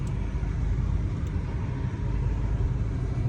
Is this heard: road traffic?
yes